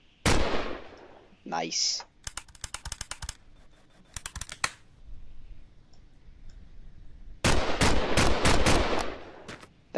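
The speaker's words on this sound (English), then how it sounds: "our revolver is fully loaded now. Let's test this bad boy out." Revolver shots and clicking handling in The Long Drive game, sharp close reports spaced out early then a tight cluster of bangs near the end, with a brief spoken remark in between.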